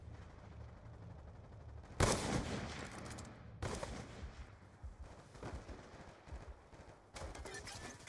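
Gunfire in a first-person shooter video game, several sharp bursts and single shots cutting in abruptly between quieter stretches of background noise, with no talking.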